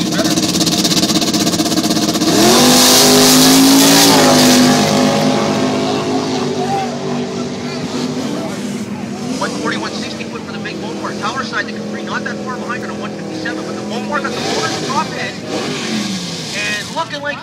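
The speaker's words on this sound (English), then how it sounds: "running against Ray Luss from Port Hardy in an 86 Mercury Capri" Drag racing cars, including a 1986 Mercury Capri with twin hood scoops, roar loudly at an outdoor track, engines revving hard and fading, under continuous announcer commentary.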